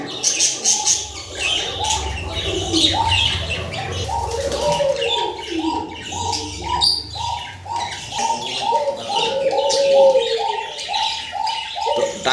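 Pigeons and doves cooing on a pigeon farm, several birds calling close by in overlapping, rolling coos and throaty calls, with occasional chirps and fluttering wings throughout.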